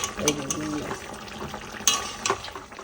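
Rohu fish curry with potato and cauliflower being cooked in a pan, with a steady sizzle under repeated stirring and clinks of a utensil against the pan, close up.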